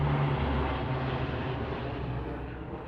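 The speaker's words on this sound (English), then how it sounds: "that airplane buzzed real low" A low-flying airplane passes overhead, a loud broad engine drone that is strongest at the start and fades slightly as it moves away, with no voices.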